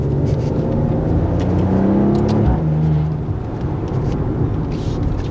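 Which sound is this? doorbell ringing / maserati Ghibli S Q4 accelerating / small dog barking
maserati Ghibli S Q4 accelerating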